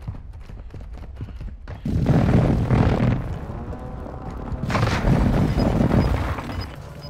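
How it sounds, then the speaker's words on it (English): Airstrike explosions in Warzone 2 arrive as two heavy, rumbling blasts a few seconds apart, each a loud, broad boom that lingers, over a low background rumble. "Airstrike, find cover."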